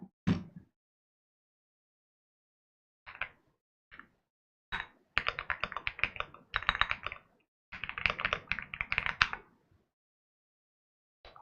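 Computer keyboard keys clatter close by in scattered single taps, then longer rapid bursts of typing separated by short silences, with no talking over them.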